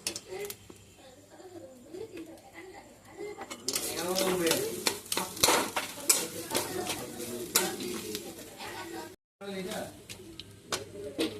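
Fried peanuts and cumin being stirred into a mashed potato filling for singara, a soft scraping, mixing clatter that grows busier partway through, with a brief pause near the end.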